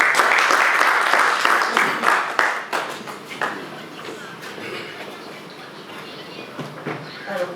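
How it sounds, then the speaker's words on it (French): Conference audience applauding after a speaker's introduction: loud, dense clapping in the first couple of seconds that fades to scattered, quieter claps and room noise. "Merci d'applaudir une fois de plus pour elle"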